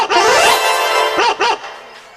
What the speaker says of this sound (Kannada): ಅಲ್ಲಿ ನಾಯಿ ಬರಾಕತ್ತದ